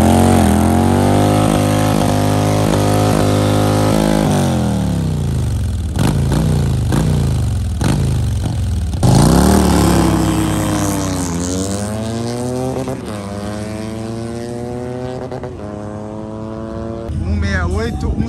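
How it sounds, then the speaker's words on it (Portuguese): Harley-Davidson and Triumph motorcycles roar through a drag run, engines revving hard and climbing through gear changes, loud and close, with a second engine's pitch rising and falling alongside as they pass. "a Harley passou mais rápido do que a Triumph"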